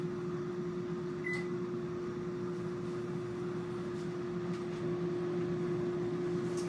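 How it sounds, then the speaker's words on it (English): A microwave oven heating potatoes runs with a steady, even hum and a constant tone that holds unchanged throughout, with no talking. "The microwave and the Instant Pot going."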